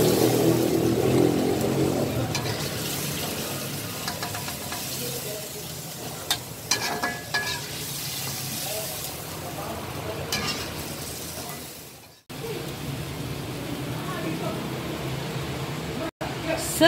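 Tomatoes stir-fried in a pan until wilted give a steady, close sizzle and frying hiss with occasional scraping stirs and a brief cutoff near the end, while someone speaks throughout.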